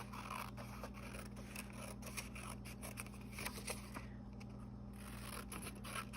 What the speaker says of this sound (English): So I'm going to cut this out so that it can fit on the bag